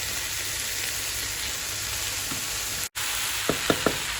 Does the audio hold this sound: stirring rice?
yes